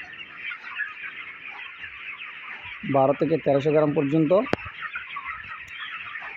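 Broiler chickens, 26 days old, from Aman company stock in a poultry shed, give a short burst of clucking in the middle, set against steady background hiss, with a person talking nearby.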